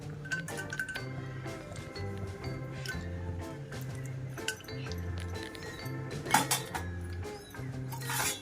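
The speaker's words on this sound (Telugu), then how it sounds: "ఇప్పుడు మనం తీసుకున్న కాజు, కిస్మిస్, బాదాం పలుకులు వేసుకోవాలండి." Cashews, raisins and almond pieces dropped into hot ghee in a pan while making samayi payasam, with soft sizzling, drips and clinks of a spoon against metal cookware, close and fairly quiet.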